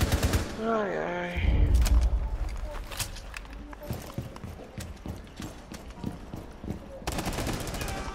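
Gunfire in Rainbow Six Siege on PS4: sharp shots and bursts crack out over a busy game mix with clattering effects, partly under a player's talk.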